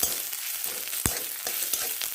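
Onions and cumin paste stirring and sizzling in a pan for a Bengali spinach dish, a steady close fry with a few sharp spatula scrapes and clicks.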